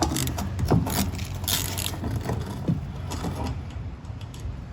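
Three 8mm bolts come out from under the motor of a Scag Windstorm blower, making close metallic ratcheting clicks and tool knocks in irregular bursts over a steady mechanical hum.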